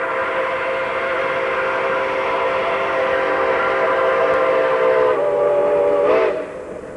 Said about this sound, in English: A stray cow is whistled off the line as the doubleheader makes its final dash into Montague.